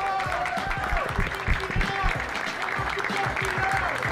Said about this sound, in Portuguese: Salve de palmas, barulho que vocês quiserem, pra quem vocês gostou, logicamente